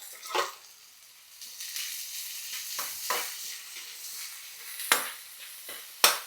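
Sliced onion and green chili sauté in a pan, a soft background sizzle broken by intermittent stirring scrapes and a few sharp clanks of the spoon.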